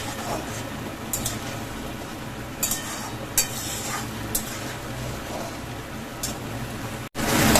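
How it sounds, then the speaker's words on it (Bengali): Spices with whole cumin fry in hot oil in a pan, giving a steady close sizzle with occasional scraping stirs and clicks throughout, and no talking. "মশলাটা কষতে হবে, যেহেতু গোটা জিরে দিয়েছি"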